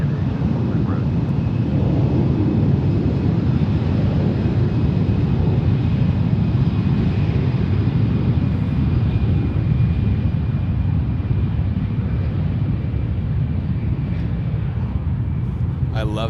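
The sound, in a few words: aircraft passing at San Francisco International Airport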